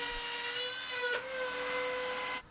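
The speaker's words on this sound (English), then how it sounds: "That was the sound of me losing a router bit" A hobby-level CNC router cutting cabinet door panels whines at a steady high pitch, then the tone shifts abruptly as the router bit is lost partway through, before the sound cuts off near the end.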